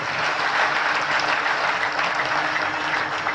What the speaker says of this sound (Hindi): कम से कम जरा जोरदार ताली बजाइए सज्जनों देवी